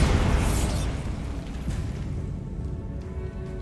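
Bombarda spell blast in Hogwarts Legacy, a loud booming explosion that hits at once and then rumbles and crackles away into a long decaying tail.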